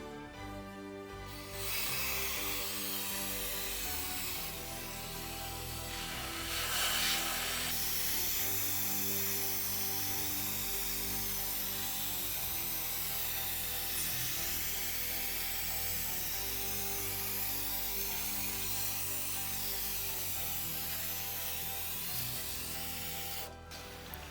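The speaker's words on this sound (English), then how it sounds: "it has also a very powerful jet which works as a pressure washer" A loud, steady high-pressure jet from a parts washer hisses continuously for over twenty seconds, with a machine hum underneath and a brief surge partway through.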